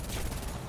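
Rapid cannon fire from an attacking plane against a TB-3 bomber in War Thunder, a dense burst of shots in quick succession, loud and continuous, no talk.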